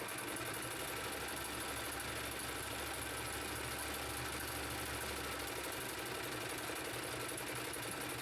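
A Singer sewing machine with a darning and embroidery attachment runs in a fast, continuous mechanical whir and rapid stitching chatter, steady and fairly quiet, with no talking.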